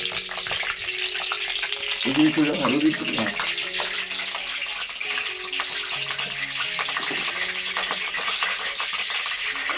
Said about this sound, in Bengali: আমাদের বিশ্বজিৎরা রান্না করছে মাছ ভাজছে